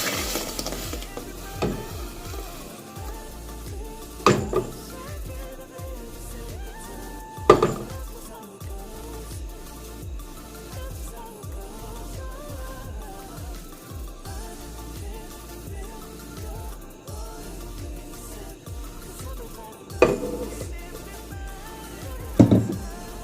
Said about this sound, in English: Now that the water is boiling, we're gonna add our blend peanuts.